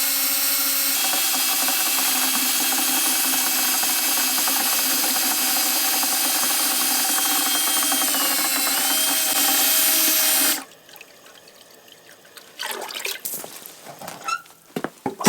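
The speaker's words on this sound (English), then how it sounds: "I got a little drill here just to get the water moving" A small power drill stirs water and a lawn product inside a cheap garden sprayer, a pre-emergent application. It gives a loud, continuous whirring whine for about ten seconds, then cuts off into faint handling clatter and bumps, with no talking.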